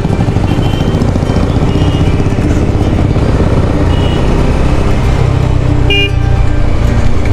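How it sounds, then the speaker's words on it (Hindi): Heavy road traffic on a busy Indian street heard from a motorcycle, a dense steady roar of engines close by with scattered car horns honking throughout, including a sharp toot near the end. "मगर ट्रैफिक एकदम भड़के है यहाँ पर।"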